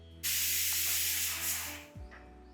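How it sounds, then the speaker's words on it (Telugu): A loud burst of steam hisses out steadily from a pressure cooker whistle for about two seconds, then tapers off and fades. "కుక్కర్‌కి 3 విజిల్లు వచ్చాయండి. ప్రెషర్ పోయింది."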